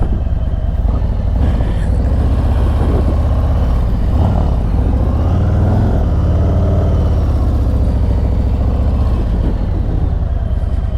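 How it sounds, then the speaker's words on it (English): A loud, steady motor vehicle engine rumble runs throughout, close and continuous, like a motorcycle passing nearby with some revving. "around comes the motorcycle"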